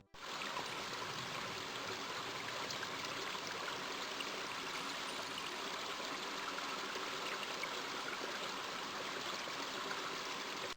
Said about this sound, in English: A small tributary of the larger river powers an old water wheel as it flows through the town.